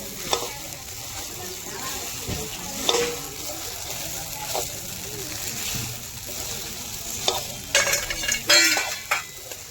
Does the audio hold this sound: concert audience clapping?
no